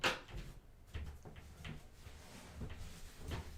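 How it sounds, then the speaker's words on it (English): An indoor door is pushed shut with a soft thump at the start, followed by faint knocks and handling sounds in a quiet room. "So I'm going to close the door again so that at least we don't hear them as much."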